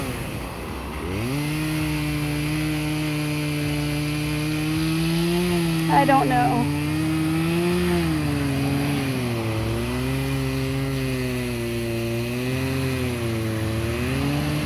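A small saw, likely a chainsaw, cutting into a big chunk of wood runs as a steady engine drone, pitch rising and dipping with load, while a person talks over it throughout.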